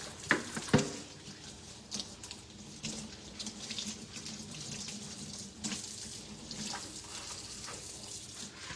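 Tap water runs into a kitchen sink as raw chicken is rinsed of fat, a steady close splashing stream with a few sharp clunks at the start and irregular spatters throughout.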